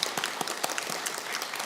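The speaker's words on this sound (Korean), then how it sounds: "우리 축하의 박수 한번 하기로 했습니다" Church congregation clapping for a newlywed couple during a Sunday service, a steady burst of dense, moderately loud applause filling the room for under two seconds.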